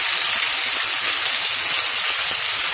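Okra hitting a little hot oil in a pan, with salt, while cooking shrimp and okra bhaji: a loud, steady, close sizzle and hiss throughout with no pauses.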